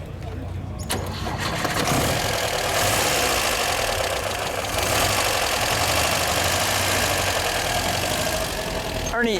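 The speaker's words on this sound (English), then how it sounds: "Let's hear what this 4-cylinder sounds like." The four-cylinder engine of a 1966 Volvo 1800 S coupe cranks and catches, then settles into a smooth, even idle with a soft exhaust burble, close by, while people talk over it.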